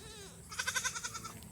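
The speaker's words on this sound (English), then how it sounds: "I'm looking at 6 goats." A goat on a small homestead gives one wavering bleat, close and clear, with no other sound over it.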